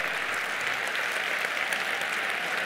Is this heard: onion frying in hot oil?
no